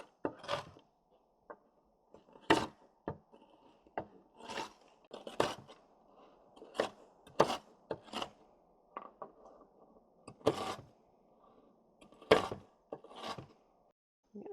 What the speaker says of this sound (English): This is just a rough chop.